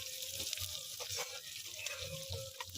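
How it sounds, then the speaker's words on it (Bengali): Stuffed bitter gourd fries in oil while being turned, a faint, steady sizzle with occasional soft scrapes, quiet and close, with no talk. "এইভাবে আমি উল্টে পাল্টে ভেজে নেব।"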